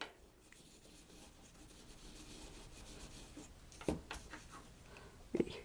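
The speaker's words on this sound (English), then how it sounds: "So a quick scrub with a steel wire brush, and I'll get the back too." Steel wire brush scrubbing a fired silver metal clay piece, a quiet continuous rasping rub with two brief louder scrapes near the end, close and without talk.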